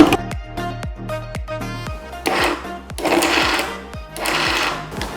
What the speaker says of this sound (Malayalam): കുറച്ച് തരിതരിപ്പായിട്ട് അരച്ചെടുക്കുക